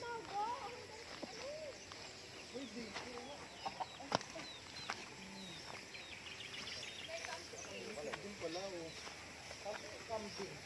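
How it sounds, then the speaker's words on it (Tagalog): Rhode Island chickens cluck and murmur in short bursts, close by, while people talk over them outdoors on a farm. "Ayan, mga manok."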